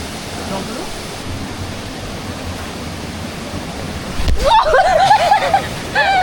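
Continuous rushing water from a nearby river in Bali fills the scene, with a person's voice speaking over it toward the end.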